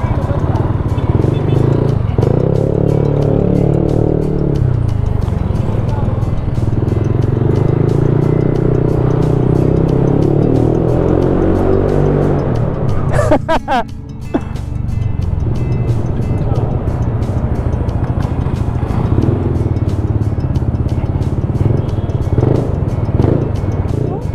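A 2023 Yamaha NMAX V2 scooter fitted with a JVT V3 adjustable exhaust idles and revs loudly nearby in a mall parking area, a steady throaty drone with a brief blip midway, while people talk over it.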